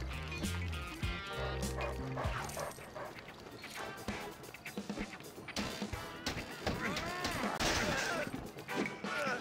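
A dog barks repeatedly in the Lego City Undercover video game, loud yips and woofs mixed with crashes, game music and effects.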